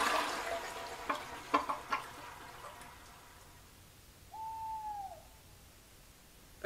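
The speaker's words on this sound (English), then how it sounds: "An owl." A single soft owl hoot sounds alone against quiet background, coming after a few faint clicks and rustles.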